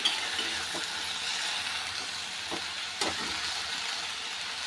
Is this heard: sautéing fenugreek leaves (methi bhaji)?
yes